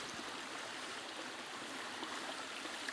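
A small, clear, cold stream in the hills flows with a soft continuous rushing and trickling, steady and fairly faint, with no voices.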